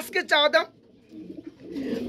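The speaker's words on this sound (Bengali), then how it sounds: "এখানে রয়েছে আরেক জোড়া কবুতর বোল্ডার সাইজ" A pigeon gives a short burst of cooing up close, followed by quieter rustling and faint background noise.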